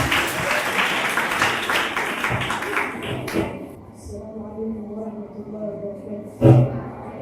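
At a grade 6 graduation, the audience claps loudly for students walking to the stage for about three seconds, then the clapping stops and a voice begins a melodic recitation, interrupted by one brief thump.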